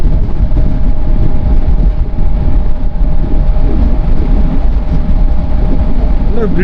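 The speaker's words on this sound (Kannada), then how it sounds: "ಗಾಳಿ ಜಾಸ್ತಿ ಆಗುತ್ತೆ ಇಲ್ಲಿ" A motorcycle rides across a high bridge in strong wind, heavy buffeting rumble on the microphone with steady engine and road drone underneath, loud and continuous.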